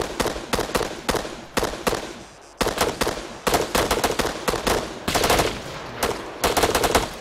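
Repeated bursts of automatic gunfire from a video game firefight, loud and close, with rapid volleys separated by short pauses and a brief lull before the shooting resumes.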